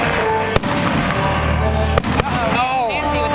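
Fireworks bursting during a 2009 Busch Gardens show: sharp loud booms at intervals over a continuous crackling, whistling rumble, with spectators' voices and cheering mixed in.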